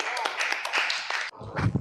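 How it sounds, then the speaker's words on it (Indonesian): Brief clapping from a group at a field practice session, applauding Farhan's team. The claps are close and fairly loud, with a short scattered burst, then a quick pause and a few more claps. "Berikan tepuk tangan untuk kelompoknya Farhan"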